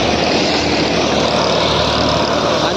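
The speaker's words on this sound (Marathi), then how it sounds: "खूप सुंदर 1500 RPMला लाईव्ह व्हिडिओला आपला हा ट्रॅक्टर काम करत आहे" A Massey Ferguson 8055 50 HP tractor runs at 1500 RPM doing silage work on a farm, giving a dense, steady, loud engine roar that holds unbroken from start to finish.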